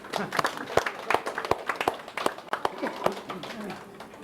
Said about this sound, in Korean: 동조하면 박수 한번 치세요